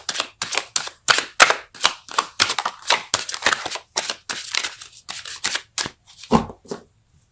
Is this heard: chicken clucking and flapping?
no